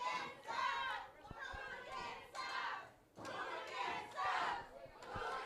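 A wrestling crowd jeers and shouts in waves at the Hooligans tag team during a live event. Loud, sustained crowd noise surges and dips, with an announcer speaking over it.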